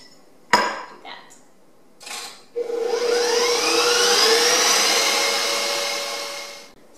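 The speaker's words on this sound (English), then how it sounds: "turn on the mixer yet again and beat that up" An electric hand mixer beats no-bake cheesecake filling in a bowl, a steady loud whir running about four seconds after a few clatters of the bowl and utensils, with no talking.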